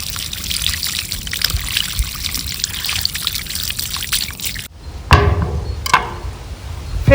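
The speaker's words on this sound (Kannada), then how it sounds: "ಇವಾಗ ನೀರಲ್ಲಿ ಒಂದ್ಸಲಿ ಚೆನ್ನಾಗಿ ತೊಳ್ಕೊಳ್ಳೋಣ" Papaya being rinsed in water for a village cooking dish, steady trickling and splashing for several seconds, then a few sharper separate pours and splashes near the end, close and without talk.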